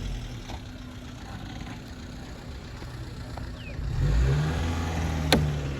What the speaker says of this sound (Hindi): गाड़ी बैक कर रहा है